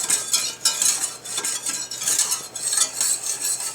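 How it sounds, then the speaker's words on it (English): A spoon scrapes browned bits from the bottom of a hot pan while deglazing for an Italian tomato sauce, making steady close scraping and metallic rasps with a faint sizzle and no talking. "use liquid and heat to scrape up all of the bits that are on the bottom of the pan"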